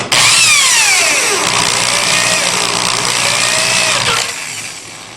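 A drill bores holes for a control panel, throwing curly chips from the bit: a loud, close whine whose pitch sags and recovers under load, then winds down near the end.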